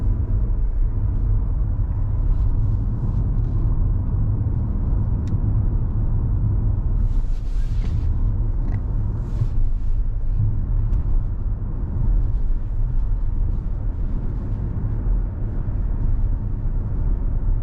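A Nissan X-Trail e-Power all-wheel-drive SUV cruises along with a steady low road rumble, heard from the cabin, loud and continuous, with faint brief higher noises over it.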